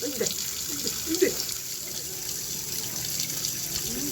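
Water pours steadily over a pet parrot taking a bath, a continuous splashing stream with small flutters and splashes rising here and there.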